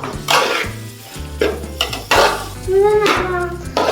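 Mango being stirred into masala in a pan for a traditional Kerala mango varattiyath, with repeated scraping and clinking of a spoon against the metal pan and a soft sizzle, close and fairly loud, with no talk.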